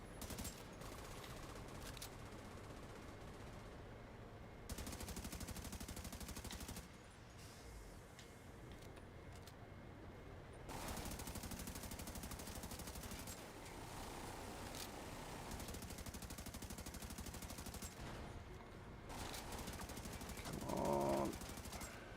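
Gunfire in The Division 2 rattles on and off across a long stretch: sustained bursts of automatic fire in several waves with short quieter gaps, fairly distant and muffled within busy game ambience.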